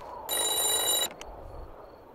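A telephone rings inside a phone booth in a horror video game: one loud, bright ring burst lasting under a second, then a short faint blip and quiet room tone.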